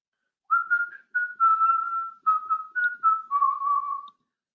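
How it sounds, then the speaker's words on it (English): A person whistles a simple melody alone, a clear steady tone broken into short phrases over about three and a half seconds. "I'm just whistling now."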